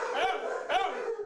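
A shelter dog in Augusta barks twice in quick succession, close and loud, each bark with a whining, voice-like tone.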